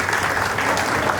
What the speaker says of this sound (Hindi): तालियां बजाएं तो अच्छा रहेगा